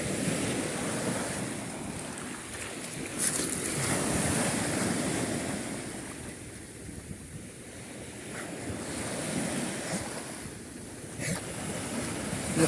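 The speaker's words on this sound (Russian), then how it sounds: "Волны." Sea waves surge and wash continuously on a shore, broad and steady with wind buffeting the microphone throughout, no voices.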